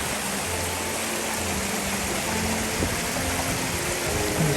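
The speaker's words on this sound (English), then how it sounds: "The sound of water when it falls, it's really amazing." Water tumbling down a mountain stream on Ben Nevis, a steady broadband rush with a low hum running underneath, continuous and fairly close throughout.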